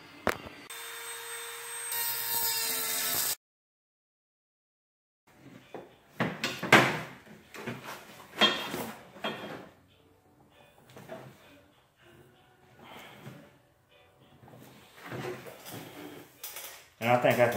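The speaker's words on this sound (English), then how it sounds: "I'm gonna be using my favorite tool in the whole wide world that got me through all this mess, the Dremel." A Dremel rotary tool fitted with a cutting wheel whines loudly and steadily for about three seconds during LS4-LQ4 intake swap work, then stops abruptly; someone talks afterwards amid clattering workshop handling noises.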